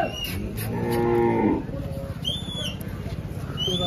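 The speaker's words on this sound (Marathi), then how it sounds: "मोठी गाय आहे।" A large dairy cow, a high-yielding milker giving 17-18 litres a day, lets out one long, loud, close moo lasting about a second and a half, with faint bird calls and farm ambience after it.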